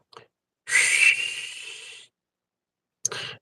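A person whistles and hisses to imitate the creepy screech of a lechusa owl: one long, loud, harsh rasping call with a short burst before it and a second brief screech after a pause.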